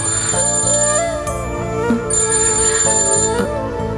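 An incoming-call ringtone plays on a mobile phone, a loud, steady electronic melody of repeating tones with bell-like accents that fills the whole stretch without a pause.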